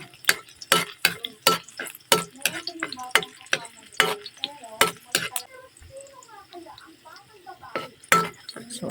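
Garlic sautéing in a pan for banana blossom stir-fry, with repeated clinks and scrapes of a utensil stirring against the pan over a soft sizzle, while a person talks throughout.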